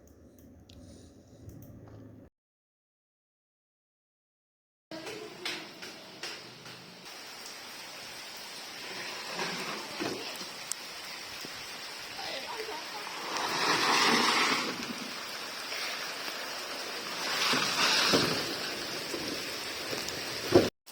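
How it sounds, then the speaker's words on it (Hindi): Heavy rain suddenly pouring down at a home during a storm, a steady broadband hiss of falling water with swelling gusts after a short silence near the start. "देखिए जी, बारिश आ चुकी है बहुत तेज"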